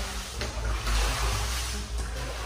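Water pours steadily from a tap left open in a flooded house, a continuous broadband rush with no pauses, fairly loud and close.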